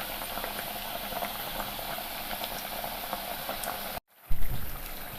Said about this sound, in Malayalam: ഇത് മറിച്ചും തിരിച്ചും അങ്ങനെ ഇട്ട് ചെറു തീയിൽ തന്നെ ഇട്ട് വറുത്തെടുക്കണം